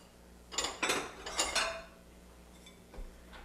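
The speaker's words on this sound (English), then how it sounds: "Move all of this aside and we'll grab a plate and a knife" A plate and a knife are handled in a home kitchen beside a peppermint chocolate dessert, with a quick run of close clinks and clatters followed by a couple of fainter taps.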